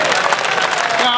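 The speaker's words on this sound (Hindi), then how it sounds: "ताली बजा" Audience clapping at a Hindi poetry recital during a fair: a brief, dense burst of applause from a seated crowd, loud and close.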